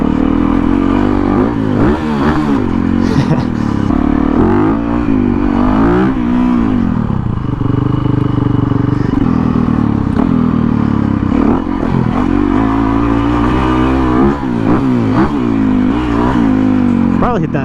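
A 2008 Yamaha WR450F converted to supermoto, rising and falling in revs as it's ridden hard through gear changes, loud and continuous with a voice talking over the engine throughout.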